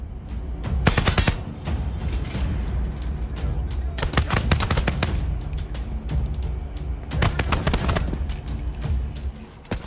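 Heavy gunfire in a co-op first-person shooter game, loud bursts of rapid machine-gun fire in three clusters with booming shots and steady battle din between them.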